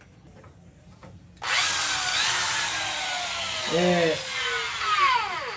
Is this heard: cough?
no